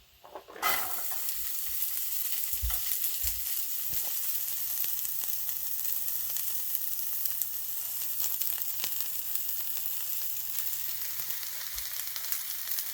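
Carrots sizzle and fry steadily in a pan sprayed with a little oil, a dense continuous hiss, with a few clanks of a utensil stirring near the start and later.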